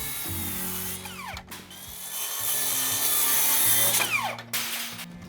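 Handsaw cutting rafter ends on a small home addition, close rasping strokes with scraping wood friction, uneven and rhythmic, pausing briefly around the middle before resuming with a few more pulls.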